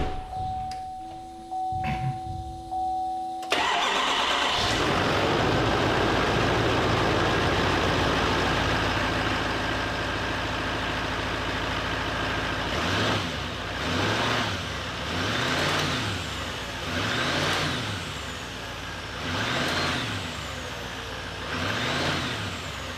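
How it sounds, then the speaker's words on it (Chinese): A burned, accident-damaged Chevrolet pickup truck's engine starts with a sharp burst and then runs at a steady, loud idle nearby, with several rhythmic swelling revs toward the end. "咱们再来启动车子，看看还有没有那种奇怪的声音。"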